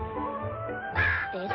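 A cartoon albatross gives a harsh, cawing call near the island shore, loud and close, with the voice of the animated character rising in a brief raspy burst over a low background score.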